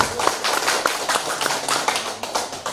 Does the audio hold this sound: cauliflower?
no